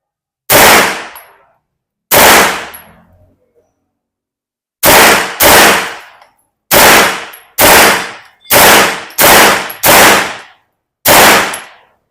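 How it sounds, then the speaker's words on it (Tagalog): A Celik Arms Crossline-C, a heavy-barrelled gun with an MP5-style charging handle, fires about ten loud, sharp shots. The first few are spaced apart and the rest come in quicker bursts, each with a short decaying tail and silence between. "So tara, testingin na natin ah. Firing!"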